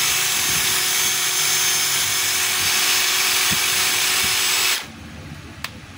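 A DeWalt DCF885 cordless impact driver runs free and loud for nearly five seconds with a steady high whine, then stops abruptly, leaving quiet room tone and one brief click.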